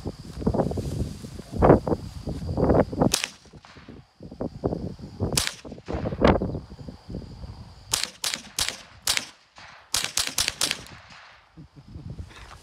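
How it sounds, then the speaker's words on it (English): Gunshots fired at an Acura car outdoors, with sharp cracks in irregular bursts and quick rapid strings of shots, some loud and near, between quieter gaps. "Time to shoot the Acura since it didn't do anything good for us."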